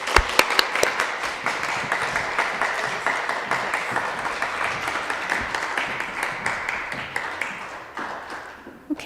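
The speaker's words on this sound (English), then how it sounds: "Let's give applause to Isa." Audience applause for a student speaker at a public speaking competition final, a dense crowd of hands clapping steadily for several seconds before gradually thinning out at the end.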